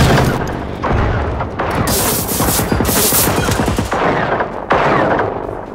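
Rapid automatic gunfire in Generation Zero, several loud bursts of sharp shots in quick succession with brief pauses between volleys, close and dominant with no talking over it.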